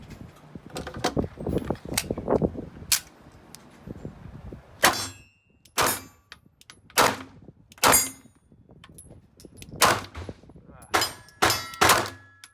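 Archon Type B pistol firing a string of about eight sharp shots at irregular intervals of roughly one second, loud and close, with some low mumbling before the first shot.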